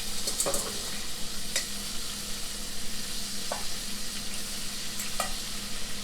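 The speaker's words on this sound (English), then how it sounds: "I'm going to fry these for another minute." Shrimp fry in hot oil with a dense, even, close-up sizzle, with a few faint clicks of a utensil over it and no talking.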